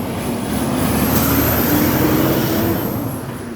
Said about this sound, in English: Loud trucks, loud truck.